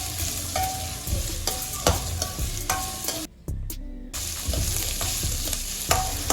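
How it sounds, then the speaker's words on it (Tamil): Onions and green chillies sauté in a hot pan for a Tamil greens stir-fry, with a steady close sizzle broken by the scrape and clatter of a stirring spoon and a brief quieter gap midway. "வெங்காயத்தை வதக்கிக்கலாம்."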